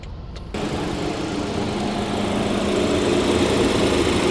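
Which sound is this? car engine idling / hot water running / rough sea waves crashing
car engine idling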